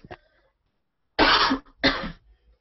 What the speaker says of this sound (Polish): kaszel.